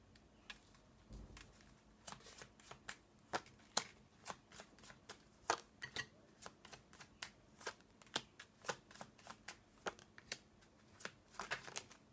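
A deck of 32 playing cards is shuffled close by in a quiet room, giving repeated sharp riffling and flicking bursts at an irregular, fairly quick pace.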